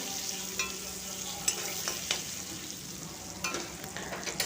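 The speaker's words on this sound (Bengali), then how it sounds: "নুন আর হলুদ দিয়ে আলুগুলোকে একটু লাল লাল করে ভেজে নেবো" Potatoes frying with salt and turmeric in a pan, heard as a soft, steady sizzle with a few light stirring clicks and scrapes.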